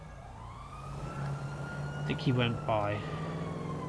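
Police sirens in the GTA 5 video game wail in a rising sweep with a steady electronic tone, joined by brief quick warbling bursts, moderately loud, while someone talks over them.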